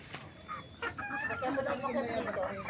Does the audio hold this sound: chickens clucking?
yes